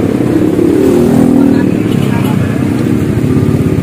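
A modified motorcycle engine idles with a steady, loud, low rumble that holds even for the whole stretch, with a voice partly mixed in.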